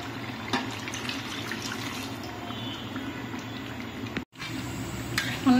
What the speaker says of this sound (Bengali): হাঁড়িটা ধুয়ে পানিটা দিয়ে দিচ্ছি।